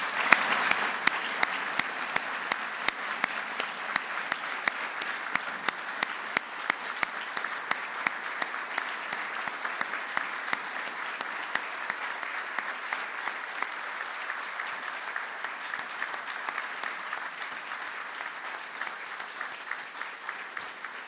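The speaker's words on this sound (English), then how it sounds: "I'd like to give one last round of applause to the recipients of the Medal of Valor." A long, steady round of applause from the audience for Public Safety Officer Medal of Valor recipients at a presidential ceremony, even dense clapping with no talk throughout.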